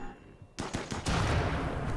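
In RimWorld, colonist Yumi opens fire: a short burst of sharp, close gunshots in quick succession, then a denser rattle of continuous fire after a quiet moment.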